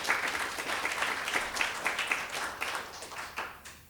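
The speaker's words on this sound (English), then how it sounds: "you can give a round of applause for that" An audience at a migrant justice talk breaks into steady applause, a dense wash of many hands clapping at mid distance that gradually thins toward the end.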